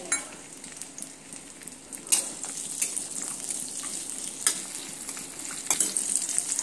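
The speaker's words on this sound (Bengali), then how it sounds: "এবার আমি কাজু আর কিশমিশটা ঘিয়ের মধ্যে দিয়ে সুন্দর করে একটু লালচে রং ধরে ভেজে নেব।" Cashews and raisins fry in ghee with a steady, crackling sizzle, broken by occasional sharp scrapes and taps of a stirring utensil against the pan, close and clear.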